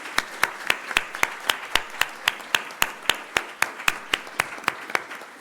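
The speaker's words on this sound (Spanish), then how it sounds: "un aplauso" Single person's slow, evenly spaced hand claps, about three per second, close and distinct over a faint room background after a panel discussion event.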